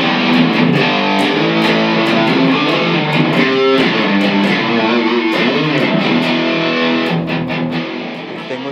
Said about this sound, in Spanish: La distorsión son ya pedales como para tocar rock un poco más pesado.